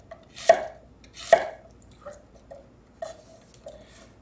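A knife slicing an onion into 3mm thick slices on a board: two sharp, louder cuts followed by several softer chops at an uneven pace, close and heard alone against a quiet background.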